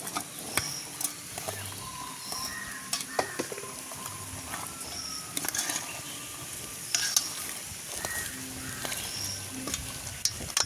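Boiled chickpea sundal is stirred with salt in a pan at a village cooking spot, giving soft scraping and intermittent light knocks of the spoon against the pan over a faint sizzle, with scattered background noises throughout.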